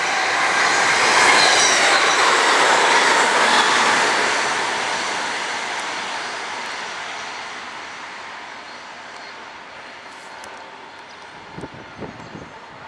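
A train on the Armadale to Byford rail line in July passes loudly nearby, its roar and wheel noise peaking early then fading steadily into the distance, with faint clicks near the end.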